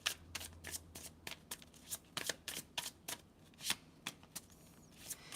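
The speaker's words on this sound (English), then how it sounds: "For Kath, please, spirits. 2 cards" Tarot cards riffled and shuffled during a live reading, a rapid series of crisp papery flicks and snaps in irregular bursts, close and fairly quiet, with no voices.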